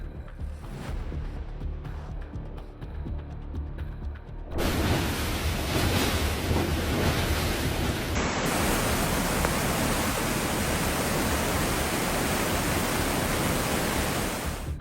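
Loud, continuous roar of tropical storm wind and crashing waves in the Philippines, steady broadband rushing that swells even louder partway through, with no voices.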